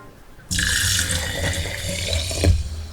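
Tap water runs steadily into a cup measure being filled for a jar, for a vinegar rinse to sanitize broccoli microgreens; a loud continuous splashing stream starts abruptly after a short quiet pause and swells slightly near the end.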